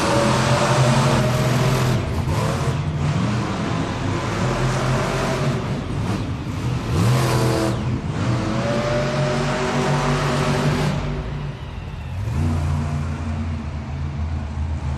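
Monster trucks roar off the starting line at a Monster Jam arena event in Moline, Illinois, engines loud and sustained with rising revs and gear shifts over steady crowd and arena noise, close and continuous throughout.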